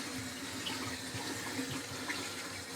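Water runs steadily from a household tap into a sink drain, a constant faint hiss and splash with no breaks and no voices.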